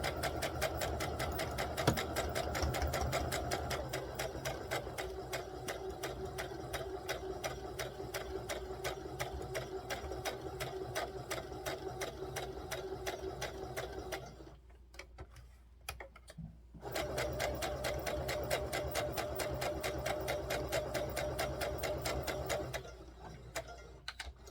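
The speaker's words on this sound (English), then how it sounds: "after we sew up the back and around the neck" A sewing machine stitches the seams of a small dress for a Little Miss Revlon doll, a steady rapid needle patter close by that stops briefly partway through, then resumes and cuts off again near the end.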